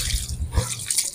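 Water splashes and sprays while rinsing cleaner off a car engine, a brief close, steady wash of splattering liquid.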